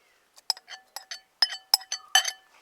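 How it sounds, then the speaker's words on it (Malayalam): Drained soaked oats dropped into a blender jar, giving a series of short, close clinks and taps of glass or hard jar, about ten separate hits spaced irregularly, with no talking. "ഇനി നമുക്ക് കുതിർത്തി വെച്ച ഓട്സിൻ്റെ വെള്ളമൊക്കെ കളഞ്ഞിട്ട് ജാറിലേക്ക് ഇട്ട് കൊടുക്കാം."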